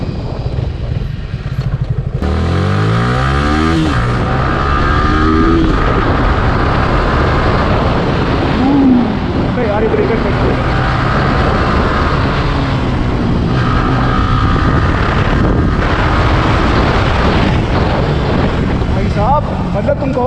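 A Yamaha R15 V3 motorcycle engine runs and revs steadily while being ridden, loud and continuous, with wind rush and someone speaking over it throughout.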